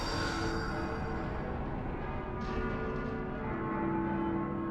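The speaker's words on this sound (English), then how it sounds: "Ooh, bells." Bells ringing with sustained, overlapping tones that hang steadily across the whole stretch, a dense resonant wash rather than distinct separate strikes, with no talking.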